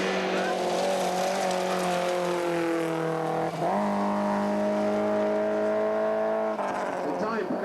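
A rally car on a forest stage of the 1989 Rally of the Tall Pines: a loud, sustained engine note changes pitch as the car passes, shifts gear midway and keeps droning, while a commentator talks over it.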